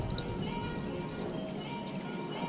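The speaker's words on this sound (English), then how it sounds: "Just mixing this 50-50 with deionized water." Coolant mixed 50-50 with deionized water is poured in a steady continuous stream, a soft splashing trickle at close range with nothing else heard.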